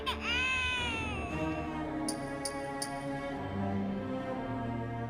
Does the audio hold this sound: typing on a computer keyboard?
no